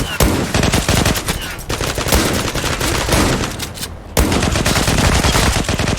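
Rapid, loud bursts of shotgun fire from the online shooter Zula, shots densely packed with brief gaps, and a short near-silent break near the end before the firing resumes.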